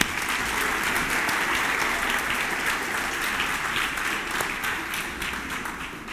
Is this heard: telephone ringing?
no